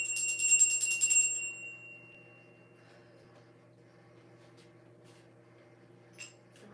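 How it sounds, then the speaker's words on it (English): A hand bell rings near and bright for about a second, then fades into quiet room tone, with a faint tap near the end. "I'm ringing my bell"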